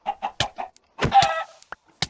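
Short, choppy clucks from game chickens, several quick bursts in a row followed by a longer squawk and a couple of brief clicks.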